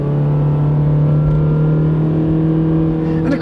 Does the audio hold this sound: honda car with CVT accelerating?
yes